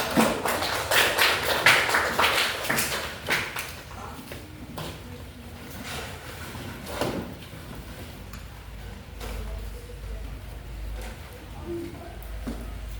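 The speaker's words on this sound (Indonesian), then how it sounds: "tepuk tangan untuk kelompok 4" A class in a classroom claps for a student group with scattered, irregular claps for about four seconds that thin out into a few stray taps and a quiet room.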